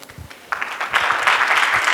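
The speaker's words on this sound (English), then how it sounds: "That deserves a round of applause" An audience at a public event on a digital economy and e-governance bill in Adamawa State breaks into applause, starting with a few scattered claps and swelling into a full, sustained round of clapping.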